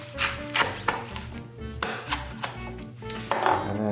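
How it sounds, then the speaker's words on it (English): A knife chopping kale leaves into slices on a board, a quick run of close, crisp cuts in an uneven rhythm with no voice. "So now that we got these great kale leaves, we're gonna chop them and put them in a big bowl."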